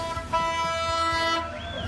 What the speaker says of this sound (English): we heard a horn and the train started coming